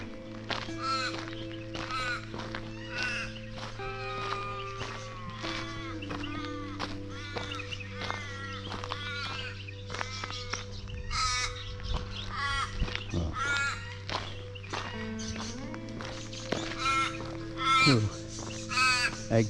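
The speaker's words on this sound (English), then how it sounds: "you can hear the birds in the background" Birds in a wetland give repeated harsh, cawing calls, some close and some more distant, overlapping through the whole stretch over a faint steady background hum.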